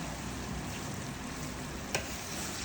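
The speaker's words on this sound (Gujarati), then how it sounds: "અત્યારે જો બોળો વઘારાઈ ગયો છે મસ્ત આ ચણા મેથીનો જ છે" Chickpea and fenugreek tempering sizzles steadily in hot oil, a dense close frying hiss with no talk and one small clink partway through.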